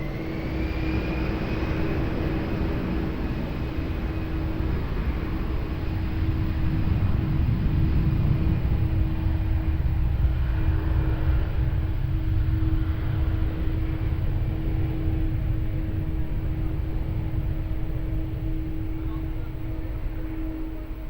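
A jet airliner taking off from runway 20 at Lisbon Airport, a long steady engine roar with a rising whine that builds and then slowly fades as the plane moves away, heard from a distance.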